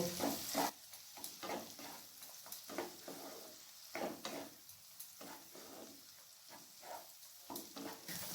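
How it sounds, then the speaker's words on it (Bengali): Ginger, garlic and green chilli paste fries in a pan with a soft, steady sizzle, broken by repeated scraping stirs at an irregular rhythm, close and fairly quiet. "এরপর এগুলোকে 1 থেকে 2 মিনিটের মতো আবার আমি ভেজে নেব"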